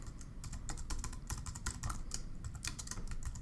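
Search keywords being typed on a computer keyboard, a quick, fairly quiet run of key clicks in an uneven rhythm with no voices.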